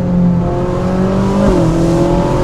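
A Ferrari 458 Spider engine droning and rising under acceleration, with a breathy whooshing intake sound, close and loud throughout.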